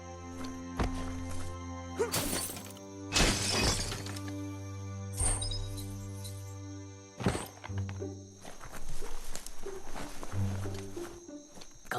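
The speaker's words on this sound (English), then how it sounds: "You shouldn't worry about smashing up the box." A box is smashed up in the video game Biomutant with several sharp crashing and breaking hits over a sustained low musical drone, along with scattered thuds and creature-like growls.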